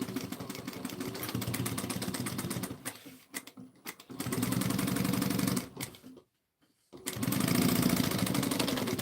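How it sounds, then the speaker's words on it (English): Sewing machine stitching a half-inch seam on a bag, its rapid needle chatter running in bursts that slow, pause briefly and start again at close range. "we're going to sew this bad boy on"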